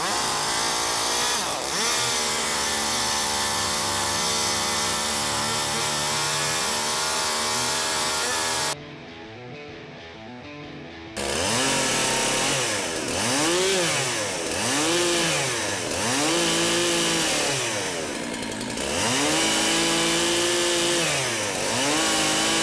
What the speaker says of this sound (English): we're gonna test out this chainsaw